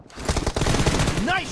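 Rapid bursts of gunfire in the BGMI mobile battle royale game, loud and close over a short stretch, with a voice heard near the end.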